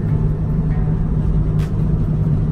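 A cheap Nissan 350Z with loose, sketchy steering drives along a road, with a steady, close low engine and road rumble running unbroken and no one talking.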